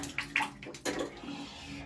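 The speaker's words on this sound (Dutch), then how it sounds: "Dan ga ik mij eindelijk eens lekker douchen." Running water splashes and trickles close by, with gurgles and drips in uneven bursts over a low steady hum, and no one talking.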